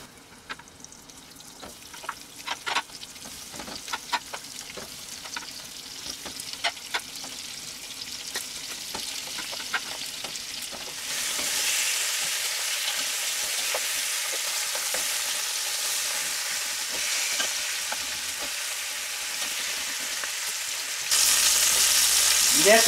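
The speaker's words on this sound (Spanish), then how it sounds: "Vamos a colocar a sellar las presas." Chicken pieces sear skin side down in a hot pan for arroz con pollo, a steady loud sizzle and crackle with scattered pops and stirring clatter early on, the hiss swelling stronger toward the end.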